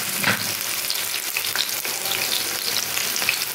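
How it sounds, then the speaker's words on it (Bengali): Coriander leaf pakora batter dropped into hot oil, a dense, bright frying crackle with bubbling spatter that stays continuous and close throughout. "এইভাবে তেলের মধ্যে ছাড়বো।"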